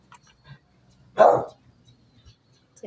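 Kuma, a pet dog, gives a single sharp bark near the microphone amid quiet background with faint scattered sounds.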